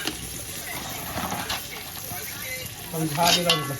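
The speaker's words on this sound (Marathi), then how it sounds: "आता चिंबोरी टाकायचे आहेत" Crabs being added to a sizzling garam masala gravy in a pot, giving a continuous frying hiss and soft stirring, with some clatter and a brief voice near the end.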